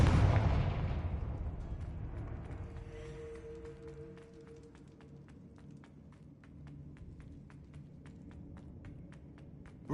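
A Confringo fire spell from the Hogwarts Legacy video game detonates with a loud, close blast at the start, then rolls off into a long rumbling decay under faint ringing tones and a steady ticking pulse.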